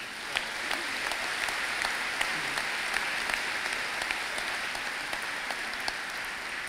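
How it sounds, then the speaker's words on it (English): A graduation crowd at SMA Prep applauds Mrs. Goodwin in 2014, a full, steady roar of clapping with a few sharper individual claps standing out, sustained at an even level with no talking. "Let's give her a round of applause."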